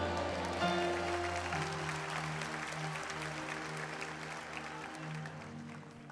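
Sustained applause from a church congregation fills the space, a steady wash of clapping over low sustained music tones.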